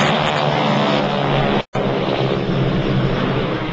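Propeller airplanes of the GEICO Skytypers flying at the Air Power over Hampton Roads air show at Langley Air Force Base in Hampton, a loud steady engine roar throughout, cut briefly by a short gap.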